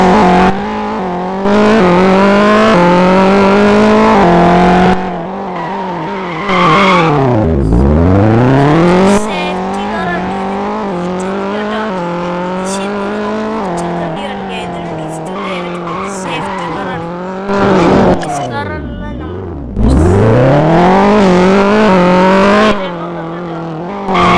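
A BMW safety car in the Extreme Car Driving Simulator game revs and accelerates in repeated loud bursts. Engine pitch climbs and drops sharply, with tire squeals and skids between gear sweeps and a brief lull near the start.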